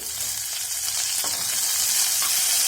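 Curry leaves frying in hot oil in a pan, a loud, steady, close sizzle that carries on without a break and swells a little near the end.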